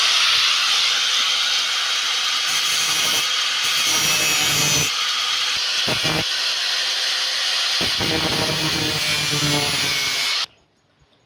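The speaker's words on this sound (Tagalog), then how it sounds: "Para mas madali kaysa sa kikikili natin, kuha natin ang grinder." A power grinder shaping a handmade skipjack tuna fishing lure, giving a loud, continuous abrasive hiss with brief dips and scrapes before cutting off abruptly, with no talk.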